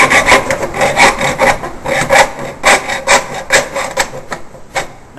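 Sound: hacksaw cutting a spouting bead

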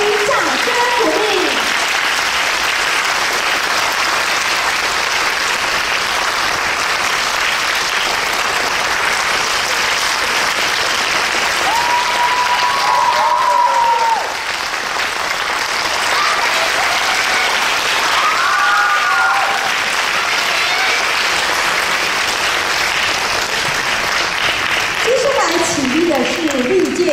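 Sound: audience applause after a Chinese orchestra performance

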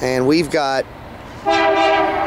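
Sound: Norfolk Southern NS-204 freight train horn

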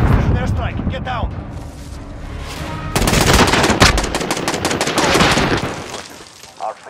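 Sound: gunfire and airstrike in the video game Call of Duty Mobile

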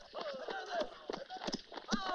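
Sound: horses galloping, hoof clip-clop

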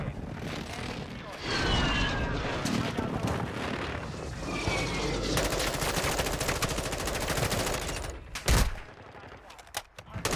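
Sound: M4 rifle gunfire in Warzone 2 video game

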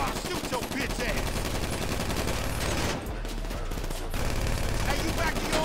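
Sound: gunfire shooting in video game Grand Theft Auto V

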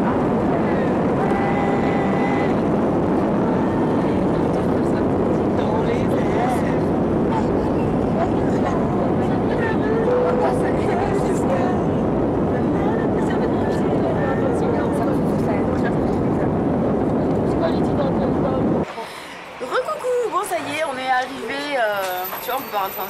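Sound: airplane taking off from Montpellier airport

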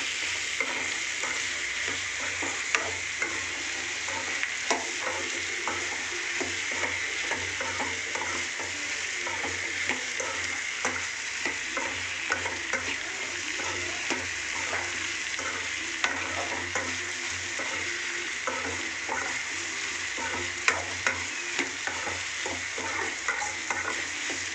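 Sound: eggplant sautéing in a covered pan

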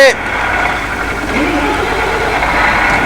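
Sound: Sohag bus engine starting and idling, from a video game

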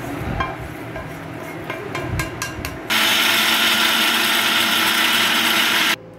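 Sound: mixer grinder grinding roasted spices for sambar powder

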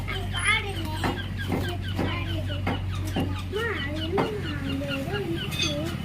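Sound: chicken clucking

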